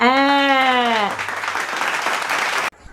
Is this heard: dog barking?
no